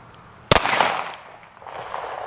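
A .45 ACP pistol fired at a drywall wall, one sharp loud shot near by, followed by a reverberating decay.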